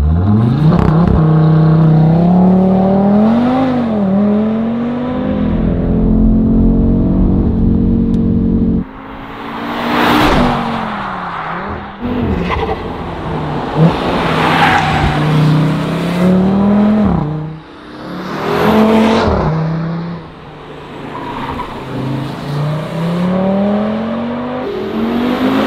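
An Audi RS3 8Y engine with an Akrapovič exhaust system revs hard with a deep, raspy exhaust note, rising and falling through repeated throttle blips and crackles, loud and close.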